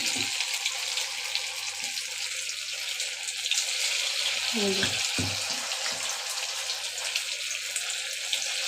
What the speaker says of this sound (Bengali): এই দেখো তেলটা গরম হয়ে এসছে এবার আমি বড়াগুলো ছোট ছোট করে ছেড়ে দেবো